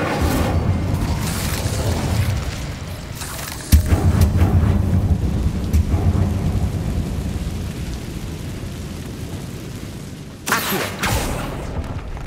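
An Incendio fire spell is cast in Hogwarts Legacy on PlayStation 5, giving a loud, sustained roaring rush with a sharp burst partway through and another surge near the end, with no speech.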